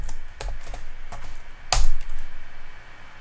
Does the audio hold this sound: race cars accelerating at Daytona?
no